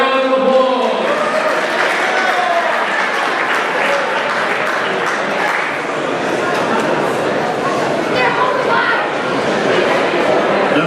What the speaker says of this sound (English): Please give Vanessa a massive round of applause.